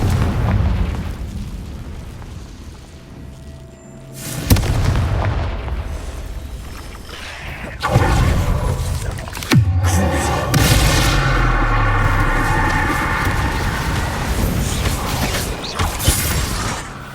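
Confringo blasting-spell explosions in the Hogwarts Legacy video game, several loud booming blasts with sharp bursts and rumbling tails, spaced a few seconds apart over a layered mechanical game soundscape.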